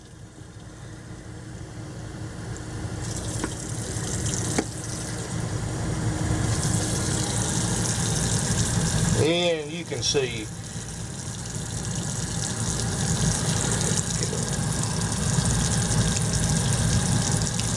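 Water running steadily from a faucet inside a 2002 National Seabreeze Class A motorhome, a constant hiss and gush with a brief clunk midway and someone speaking a few words over it.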